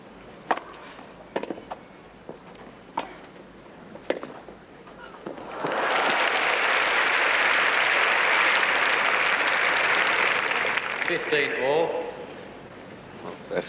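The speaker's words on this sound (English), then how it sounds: "And the crowd showing their appreciation." Tennis crowd at a 1983 women's match in Sydney breaks into sustained applause that swells, holds for several seconds and fades, after scattered ball strikes and light court sounds.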